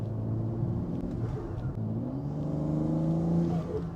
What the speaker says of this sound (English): it has a turbo whistle